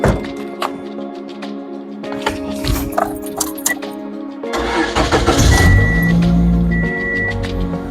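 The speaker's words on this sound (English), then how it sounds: "So I'm going to start up the engine again." A car engine cranks with a thunk and starts, then settles into a steady, loud idle after its spark plugs were tested and refitted, with a faint intermittent beep near the end.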